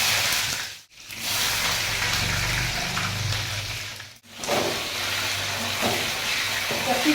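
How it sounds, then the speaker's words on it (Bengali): Capsicum frying in a hot pan with cardamom and cloves gives a constant hiss and sizzle, close and moderately loud, with two brief drop-outs where the sound cuts away. "ক্যাপসিকামগুলো একটু ভাজা ভাজা করে নেবো"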